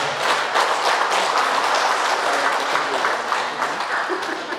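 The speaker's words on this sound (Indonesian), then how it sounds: "mari kita sambut tamu kita dengan tepuk tangan yang meriah" An audience at a cooperative annual meeting in Sikka stands and applauds to welcome official guests, a dense, steady wash of clapping from many hands that holds throughout.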